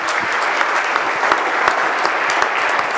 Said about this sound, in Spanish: Vamos a darle un fuerte aplauso a los jóvenes.